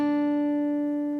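An octave rings from a guitar as strings 4 and 2 are plucked together, one clean sustained tone held steady and close, fading slightly with no other sound.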